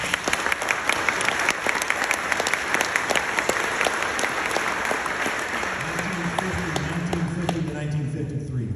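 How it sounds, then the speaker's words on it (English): An audience at a veterans' event applauds Korea veterans with steady, dense clapping throughout. Near the end a voice starts speaking over the fading applause. "Excellent, round of applause."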